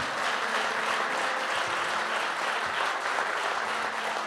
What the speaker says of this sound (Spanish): Dale ese fuerte aplauso al Señor